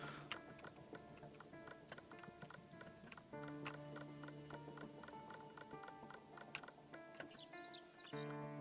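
Small birds chirp in a video game, their quick high tweets rising near the end over steady melodic game music with ticking, clopping beats.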